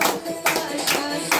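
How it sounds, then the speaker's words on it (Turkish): Several people clap by hand in a brief burst, sharp close claps with a couple of louder accents. "alkışlıyoruz."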